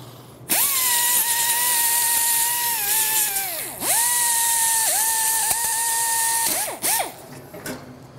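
Die grinders whine in a metal shop while old rusty metal pieces are being fixed, a loud steady high-pitched spin that rises and dips repeatedly as the tool bites the workpiece, cutting briefly before spinning up again.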